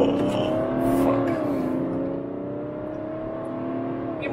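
A BMW 330d xDrive with a 3.0-litre diesel engine drones loudly from inside the car, its steady harmonic engine note dipping slightly and then holding under road noise.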